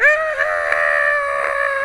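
A person imitates a cartoonish scream of a character from the Riddle School 4 point-and-click game, a loud, sustained, strained vocal wail with a slight break partway through, close to the microphone and heard alone.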